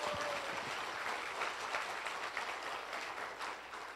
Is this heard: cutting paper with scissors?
no